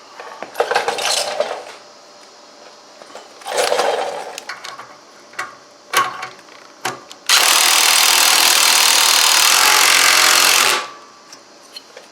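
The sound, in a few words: tightening bolt on DR leaf vac muffler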